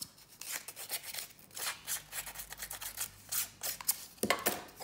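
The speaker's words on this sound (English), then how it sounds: "I'm just going to rough the outer edge up" The outer edge of a paper label being roughed up for a junk journal, producing repeated close scratchy scraping and rasping strokes in quick irregular bursts, with no talking.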